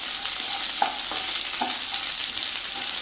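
Thinly sliced onions sautéing in a pan on medium flame for garlic chicken, a steady soft sizzle broken by a few spoon stirs and knocks against the pan, no voices.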